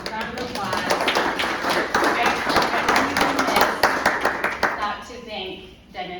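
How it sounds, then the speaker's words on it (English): Lecture-hall audience applauds, a dense steady run of many hands clapping that swells and then tapers off near the end, with voices murmuring underneath. "Let's give them a round of applause."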